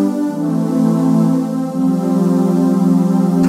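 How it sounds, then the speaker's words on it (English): Roland GAIA SH-01 synthesizer pad with two layered tones, a sustained rich chord swelling steadily and holding alone for several seconds, ending with a brief click. "Using the tone 2 switch, I can add another tone like this."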